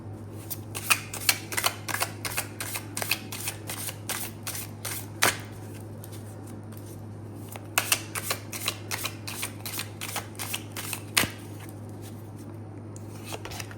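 A Zoltun Mayan Tarot deck being shuffled produces rapid, crisp bursts of card riffling in repeated clusters, close and fairly quiet over a steady low hum, with no voices.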